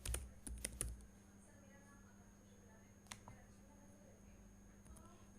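Quiet computer keyboard typing: a quick cluster of key clicks at the start, then a few isolated taps over faint room noise.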